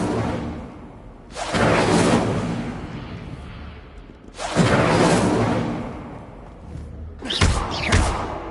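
Three whooshing magical bursts of an Incendio fire spell in a Harry Potter game, each a broad rushing flare lasting a second or two, the last splitting into two quick flares.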